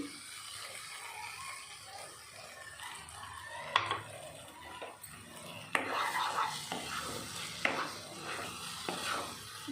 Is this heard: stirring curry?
yes